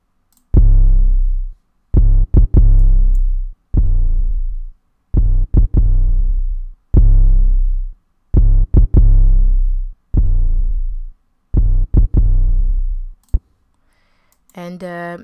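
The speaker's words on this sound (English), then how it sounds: "And there's also the 808." Deep 808 bass hits in a remake of an instrumental, played on a MIDI controller: loud, booming sustained notes in a repeating pattern with gaps between them, ending with a brief higher sound.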